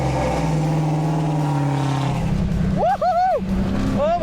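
A truck engine pulls hard while driving, a loud droning rev that climbs and shifts pitch partway through, with a voice briefly breaking in near the end.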